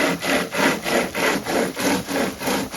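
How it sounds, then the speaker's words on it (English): Rhythmic back-and-forth strokes of a hand saw cutting through wood, close and loud, about two strokes per second. "it's easier to shoot video than to do the sawing"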